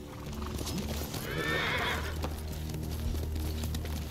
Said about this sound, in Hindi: घोड़ा घोड़ा जल्दी आ जा घोड़ा